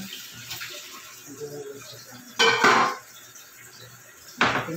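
Lid set down on a pan of salmon belly cooking on the stove: two sharp metallic clatters, one longer rattling clank midway and a brief clink near the end, close by over a quiet kitchen background.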